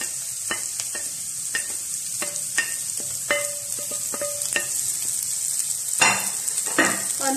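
Green chillies stuffed with chopped cabbage, chicken and mint frying with spices, a continuous close sizzle broken by repeated clinks and scrapes of a stirring utensil, with a louder hissing burst late on, no talk.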